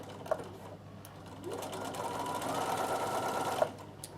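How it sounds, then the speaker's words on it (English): A sewing machine stitching a fabric Christmas table runner, a close, quiet motor whir that starts, runs steadily for a couple of seconds and stops, with light handling clicks around it. "So come right under here and stitch from the top down."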